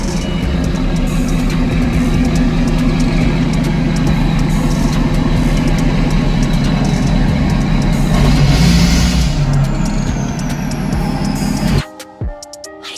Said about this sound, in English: we're gonna pull the truck in the garage